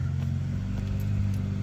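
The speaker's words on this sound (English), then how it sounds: "Let's try turning on the car here." A 2025 BMW G80 M3 engine runs close by with a deep, steady low rumble and a faint hum, holding an even idle with no rev.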